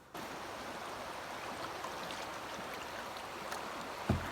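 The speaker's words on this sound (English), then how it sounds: "Some rapids. It's hard to see, and I'm like, and the water's moving so fast." Fast-flowing river rapids in the Temagami wilderness, a steady broad rushing of water that stays constant throughout, with a short knock near the end.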